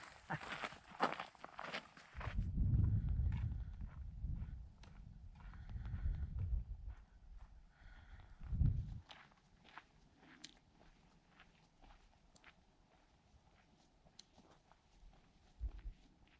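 A bull and two cows walking down a desert trail in Arizona: heavy hoof thuds and scuffing on dirt and rock, loud and close at first, then fading to a few faint steps, with no voices.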